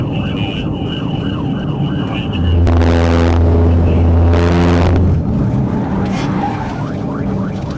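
A police car rams a fleeing vehicle from behind in a PIT maneuver, tires screeching in a loud sustained skid amid engine noise and a siren-like wail, with a voice talking over it.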